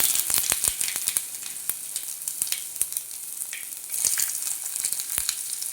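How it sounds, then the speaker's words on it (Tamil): Ginger frying in hot oil sizzles steadily up close, with frequent sharp pops and crackles. "நல்லா பொரியுது."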